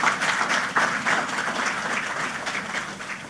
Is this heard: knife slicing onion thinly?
no